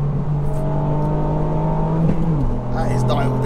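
Revo Stage 2 tuned Ford Fiesta ST engine pulling hard and shifting without lifting, steady loud drone dropping in pitch at the gearchange then climbing again, with a passenger voice briefly over it.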